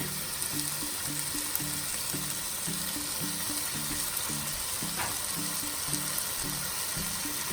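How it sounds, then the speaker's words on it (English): Minced garlic sizzling in a hot pan for homemade meat sauce, a loud, dense, steady frying hiss with a faint rhythmic background beat underneath. "So now I'm gonna throw my minced garlic"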